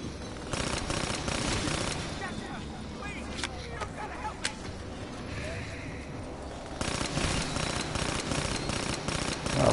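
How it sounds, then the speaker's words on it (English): Rapid-fire gun shooting in a PS4 video game, dense mechanical bursts of automatic fire in stretches at the start and end, with a quieter patch between and voices talking underneath. "Rapid fire on the fucking Pharaoh, dude."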